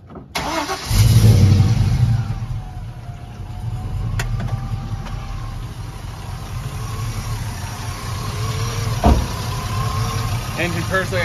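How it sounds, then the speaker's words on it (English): A 1991 Toyota Land Cruiser HZJ75 with a 6.0 LS engine swap and 2.5-inch straight-pipe exhaust cranks briefly, fires up with a loud surge, then settles into a smooth, steady idle, with people talking nearby. "engine purrs like a kitten."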